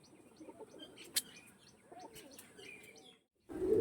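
A pair of Andhra and Kalshira breed pigeons gives faint, low coos and small chirps, fairly quiet and intermittent, with a brief flutter near the end.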